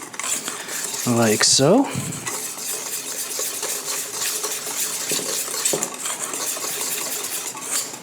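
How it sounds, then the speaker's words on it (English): Dry corn dog batter ingredients whisked in a bowl, a steady brisk scratching and clinking of the whisk that runs on after a short spoken phrase at the start. "So dry, we just wanna give these a nice whisk."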